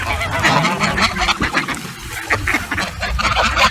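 Geese or ducks honk loudly and repeatedly at close range while being hand-fed, an excited, overlapping chorus of calls with no pauses.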